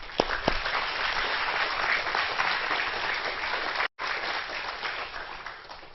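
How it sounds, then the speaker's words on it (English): A church audience gives sustained, even applause, a steady wash of clapping with a couple of sharper claps at the start and a brief dropout partway through. "Give him a round of applause."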